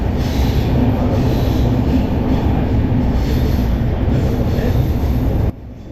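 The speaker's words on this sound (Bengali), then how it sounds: "আজকে আমি ট্রাভেল করছি train number 12124 Pune junction two Mumbai CSMT Deccan queen এক্সপ্রেসে।" Deccan Queen Express rolling from Pune toward Mumbai, a loud steady rumble of wheels on track with squealing and faint clatter, continuous and close from inside the train until it drops abruptly in level near the end.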